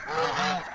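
A goose on a farm rooftop gives a single short, nasal honk, close and fairly loud.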